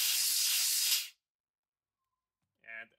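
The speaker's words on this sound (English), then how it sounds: "Here I've got my blower with a negative ion. I'm going to stop the fan in center and then apply air." An ionizing air blower hisses loudly for about a second, blasting dust out of a computer fan, then cuts off into silence before a brief voice is heard.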